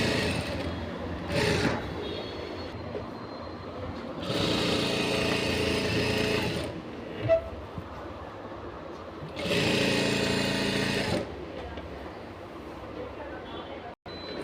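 Sewing machine stitching a false border onto a saree, running in several separate bursts of close, steady mechanical whirring with pauses of handling in between.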